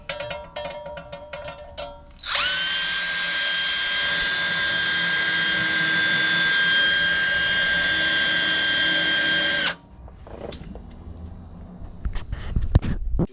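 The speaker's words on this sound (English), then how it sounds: "we drilled our holes right in the center" A power drill whines loudly and steadily for about seven seconds, drilling holes for wheel lights on a 2019 Ram 2500 pickup truck, preceded and followed by clattering and handling noises nearby.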